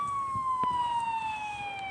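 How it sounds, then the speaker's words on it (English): A siren wails steadily in the background with a gradually falling pitch, mid-distance, with a few soft knocks and rustles nearby. "Do you guys hear a police sirens?"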